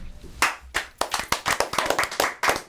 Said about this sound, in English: So I was clapping in to sync it, but the clapping was amazing.